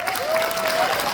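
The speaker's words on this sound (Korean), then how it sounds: "박수 크게 쳐주세요." Audience clapping at a Korean political rally, a short burst of dense applause with a voice briefly over it.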